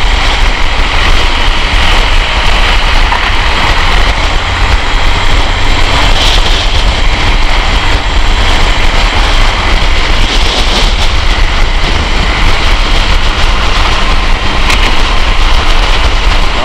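Steady, loud motorcycle engine and wind rush while riding the BR-101 highway toward Florianópolis in Santa Catarina, a continuous broadband roar with no talking.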